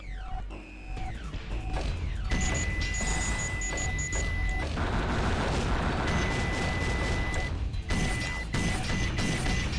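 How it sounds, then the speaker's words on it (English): Vulcan cannon power-up from a video game fires as a dense, continuous barrage of crashing, explosive blasts with metallic mechanical clatter and steady high electronic tones, loud and sustained, briefly cutting out before resuming. "Vulcan cannon, power up."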